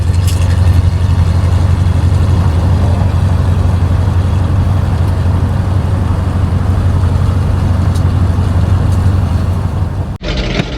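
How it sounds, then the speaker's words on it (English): An old Dentside Ford truck engine runs steadily and loudly with a deep low rumble throughout, close and constant, cutting off abruptly near the end. "Driving an old truck."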